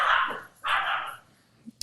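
Dogs barking indoors, two loud close sharp barks followed by a short faint yip, with gaps of quiet between them.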